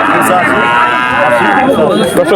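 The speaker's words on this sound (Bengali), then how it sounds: "খুব সুন্দর একটা গরু এটা সাইওয়াল জাতের" A Sahiwal cow moos in long, drawn-out lowing calls close by at a cattle market, with people talking over it.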